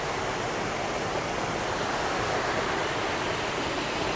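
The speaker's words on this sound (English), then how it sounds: "Love the creeks in the winter." A winter creek in the Ozarks rushes steadily and close by, a dense, unbroken wash of flowing water with no talk over it.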